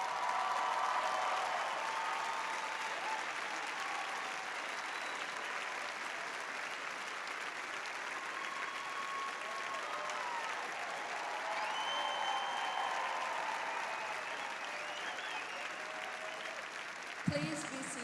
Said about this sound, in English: a round of applause for your teachers and mentors who are seated in the front rows on the floor